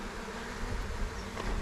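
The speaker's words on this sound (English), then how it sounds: "And these are more worker bees, just starting to add to the wax." Honey bees buzzing around an opened hive during a first inspection seven days after a package install, a dense, continuous, close swarm drone filling the air.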